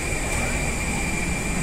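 Airplane engine at an airport, a steady broad roar with a high whine holding constant throughout, close and loud with no break.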